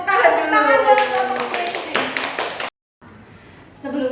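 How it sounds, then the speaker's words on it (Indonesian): A classroom group claps hands at close range, a burst of dense applause lasting a couple of seconds with voices talking over and around it, then a short pause before more sound. "Beri tepuk tangan dulu."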